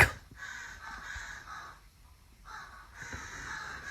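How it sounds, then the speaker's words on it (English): Several crows caw in short, harsh bursts while dive-bombing, the calls bunched in two groups with a brief pause between, fairly close and clear with no talking. "The crows are dive bombing baby."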